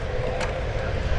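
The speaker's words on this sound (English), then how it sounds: "big Korean jet is about to rock on" A large Korean jet airliner at an airport plane-spotting event sends out a steady, fairly loud engine rumble that fills the short stretch.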